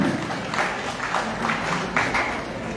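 An audience claps together during a spiritual discourse, a short, steady burst of crowd applause with no voices.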